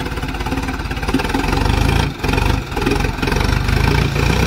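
A Sonalika DI 750 tractor's diesel engine chugs loudly and rhythmically, labouring with periodic dips and surges as if struggling under a heavy load during a gear capacity test.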